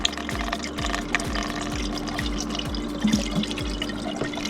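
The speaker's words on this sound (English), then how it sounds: "You're gonna want to slowly pour your coolant in there." Coolant glugs steadily as it is slowly poured from a container into the cooling system of a 2009 Jeep Patriot during a thermostat replacement, with a rhythmic gurgle repeating roughly every half second, close up and without talk.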